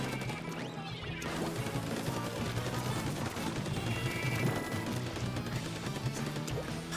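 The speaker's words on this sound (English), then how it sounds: "Oh, those are missiles." Missiles exploding in the Splatoon 2 video game during a Splatfest match, a dense continuous barrage of crashing, thudding blasts layered over game music, loud and sustained throughout.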